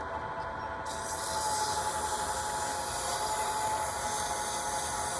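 150-grit sandpaper rubbing a turned wooden pen spinning on a lathe, a steady close hiss of abrasion blended with the constant whir of the running machine, no voices.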